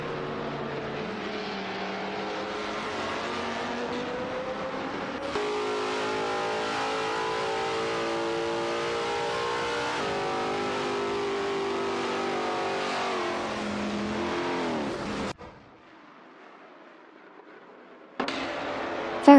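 A Lamborghini Murcielago RGT and other race cars in a racing video game, engines droning and rising in pitch through gear changes, a sustained loud roar that cuts out briefly near the end before returning.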